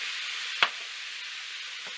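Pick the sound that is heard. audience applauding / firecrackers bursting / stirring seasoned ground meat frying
stirring seasoned ground meat frying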